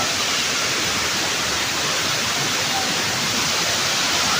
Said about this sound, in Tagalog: Napakaganda ng falls.